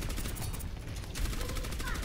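Rapid gunfire in the video game Overwatch rattles in quick repeated bursts, fairly loud and dense across the whole moment, with voices talking over it.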